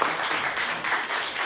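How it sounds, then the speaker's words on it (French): Steady audience applause greeting someone on stage, a thick, even clatter of many clapping hands sustained throughout with slight dips, no speech over it. "Applaudissez-le, s'il vous plaît."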